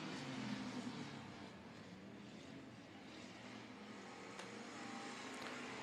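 Race cars circle a dirt track at Boothill Speedway, their engines droning as a steady, somewhat distant roar that swells and fades slightly as they pass.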